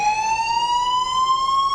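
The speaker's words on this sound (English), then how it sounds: "Why don't you shut off the alarm?" A loud, steady electronic alarm tone slowly rises in pitch and rings continuously without pause, close and alone with no voices.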